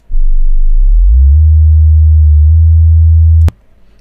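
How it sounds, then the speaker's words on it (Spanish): A synthetic, very low-pitched pure tone hums loudly and steadily for about three and a half seconds, rising slightly in pitch at first, then cuts off abruptly with a sharp click. "Cuando escuchábamos sonidos muy graves como esto"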